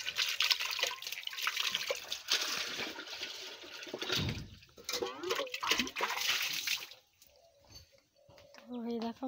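Water runs and splashes while things are washed at a tap, a loud continuous gush broken by pauses and clatter, with a voice talking over it in Bengali.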